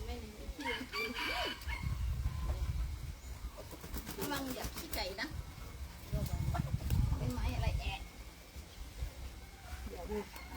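Chickens cluck steadily while a rooster crows, with other birds chirping and a low rumble in the background; a voice speaks briefly.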